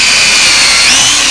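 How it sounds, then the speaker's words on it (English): A loud, steady high-pitched whine of a power drill boring into material, running continuously close by with no pauses. "the easiest way to do that is just by leaning the drill bit a little bit left and right,"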